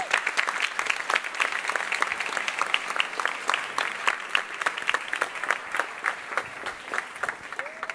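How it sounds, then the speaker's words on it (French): Sustained applause from an audience at a national science-communication final, dense clapping throughout that thins slightly toward the end, with no talking over it. "Bravo, on les applaudit encore, nos finalistes."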